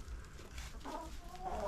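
Chickens at a backyard coop give soft, low clucks and murmurs, faint and close, with no one talking.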